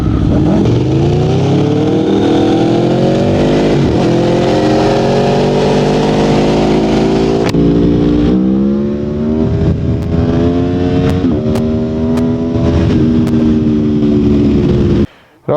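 A nearby Aprilia Tuono V4 Factory motorcycle engine revs loudly, rising in pitch and then stepping down through several downshifts. Crisp pops and crackles follow each step until the sound cuts off abruptly.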